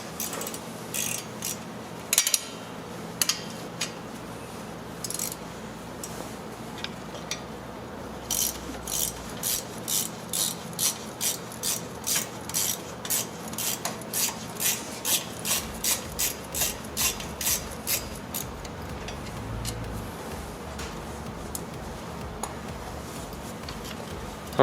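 A hand ratchet works a 13mm bolt on a rear ABS sensor of a Dodge Journey, a series of close, sharp clicking strokes in rapid bursts, sparse at first and then steady and repeated in the middle stretch.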